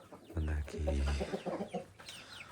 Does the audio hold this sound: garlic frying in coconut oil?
no